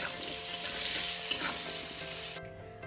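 Potatoes frying in oil for a prawn and ash gourd curry sizzle steadily and loudly, close up with a stirring scrape midway, and the crackle cuts off abruptly near the end.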